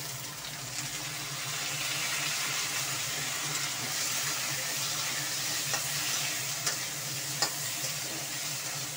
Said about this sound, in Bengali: করলাগুলো দিয়ে দিলাম।